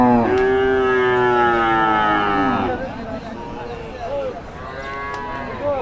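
A red cow for Qurbani at a rural cattle market in Mirzapur, Tangail gives a long, loud, close moo, followed by a second, softer lowing call, with market bustle behind.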